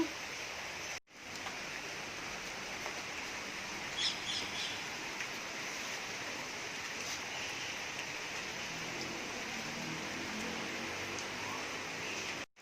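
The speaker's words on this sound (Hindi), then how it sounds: "बारिश की आवाज़ इतनी मस्त लग रही है ना" Steady rain hisses evenly throughout, a constant soft wash of droplets, with faint bird chirps briefly heard in the background.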